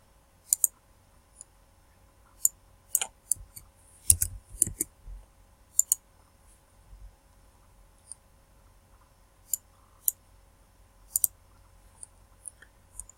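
Computer mouse clicks at a desk during network configuration, sharp isolated taps scattered irregularly, some in quick pairs, over near silence.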